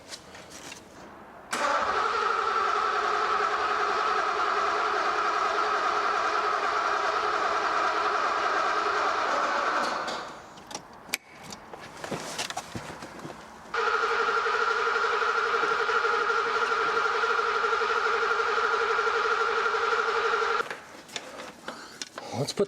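A 1981 Mercedes 380SL engine cranks and fires, running for several seconds at a steady mid-pitched idle, cutting out, then cranking and running again in a second long stretch; the sound is close and loud, with no talk over it.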